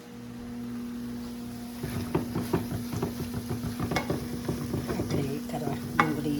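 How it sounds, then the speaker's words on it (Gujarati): Onion, tomato and chili sizzle and fry in a pan while being stirred, with a steady hiss, a low hum and repeated scraping stirs close by. "કરવા ડુંગળી ટોમેટું મરચું નાદું બધું શેકાય છે."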